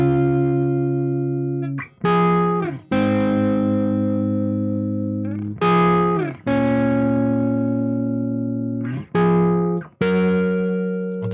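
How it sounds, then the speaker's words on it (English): A heavily distorted electric guitar through a Neural DSP Archetype amp sim rings out in long sustained chords, loud and saturated with rich overtones, each chord cut off before the next strike. "I just want you to hear the harmonic content of this amp"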